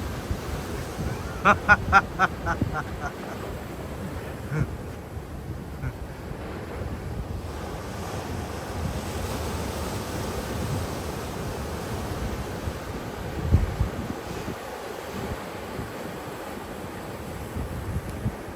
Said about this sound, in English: Look at the ocean, it's so calm now